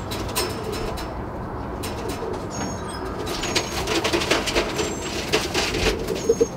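Valencian pouter pigeons in a loft, with low cooing over a steady dense background murmur and occasional sharper chirps and clicks toward the end; no speech.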